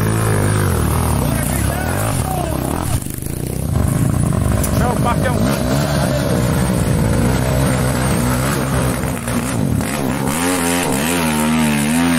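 A motorcycle on an off-road dirt trail outing revs and accelerates loudly and continuously nearby, its engine note rising and falling, while people talk over it.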